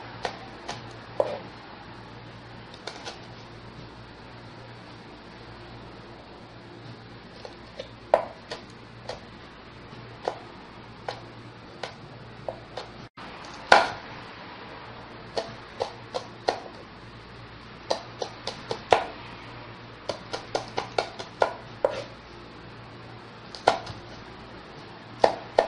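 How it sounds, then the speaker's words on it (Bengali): A knife chops fiery Bangladeshi green chilies on a board, sharp close taps in irregular clusters and runs over a quiet steady hum, with short pauses between batches of cuts. "এখন কাটবো, তাতে আমাদের মরিচগুলো ছোট ছোট হয়ে যাবে"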